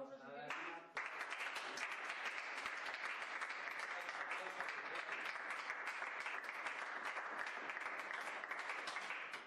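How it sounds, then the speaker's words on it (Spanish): A crowd at a Spanish Socialist Party (PSOE) event bursts into loud, sustained applause after a brief moment of voices, the dense clapping continuing steadily to the end. "Un aplauso"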